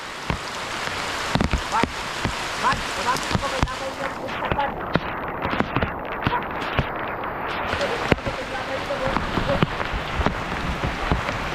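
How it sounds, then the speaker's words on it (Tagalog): Heavy rain pours down steadily, a dense hiss with sharp spatters and drips on a hard surface, while someone talks over it. "Grabe pa yung ulan mga idol. Lakas."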